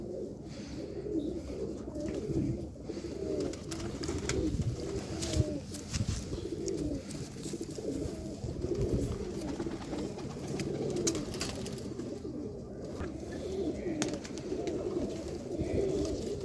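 Pigeons of the red Lal Pari breed coo steadily in a loft, a dense, continuous murmur of overlapping low calls close by, with no talk.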